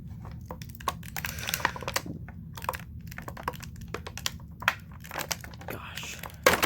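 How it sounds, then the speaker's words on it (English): A Transformers Generations 30th Anniversary Waspinator figure is pulled from its box: close, irregular crinkling of plastic and cardboard with sharp crackles and tearing bursts, spread over several seconds under faint background hum. "Now let's get him out of his box."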